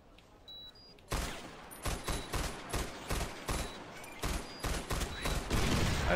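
MG42 machine gun in Far Cry 4 opening up after a quiet moment, then hammering out loud, dense bursts in a pulsing rhythm with brief gaps between strings of rapid fire.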